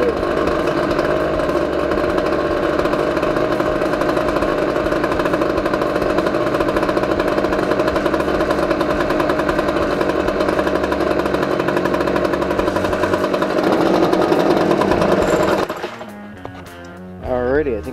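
Small gas leaf blower engine running steadily at high revs after its fuel filter was cleaned, loud and close with a constant buzzing drone, then cutting down near the end to a lower sputtering idle.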